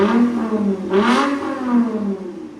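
A 2008 Lexus IS 250 with a 2.5L V6 and a Valvetronic Designs universal muffler, valves open, revs loudly and close by, with several rising and falling throttle blips growling in quick succession.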